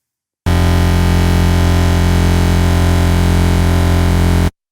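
A Native Instruments Massive software synth plays a sustained buzzy wavetable tone with pitch-driven wavetable position modulation, loud and harsh for about four seconds before cutting off abruptly.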